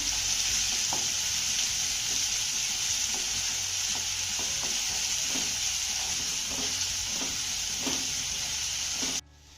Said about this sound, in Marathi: आता हा कांदा देखील आपल्याला चांगला मौजूद होईपर्यंत परतून घ्यायचा आहे